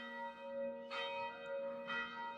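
A church bell tolls nearby with two clear strikes about a second apart, each leaving a long ringing hum that lingers between them, fairly soft and with no talking.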